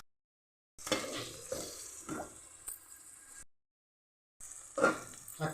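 Curry leaves and coriander go into a frying eggplant and raw banana curry with soft sizzling and stirring scrapes in short bursts, separated by moments of silence.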